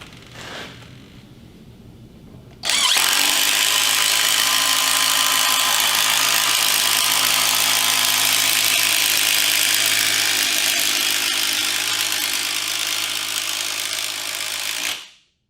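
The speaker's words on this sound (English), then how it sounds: "going to run this long lag screw into these pieces of wood" A power drill drives a long lag screw into pieces of wood, starting after a quiet moment and whining loudly and steadily for about twelve seconds before it stops abruptly.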